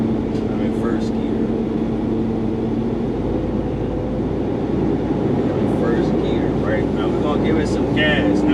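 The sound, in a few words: 13-speed truck engine accelerating from first gear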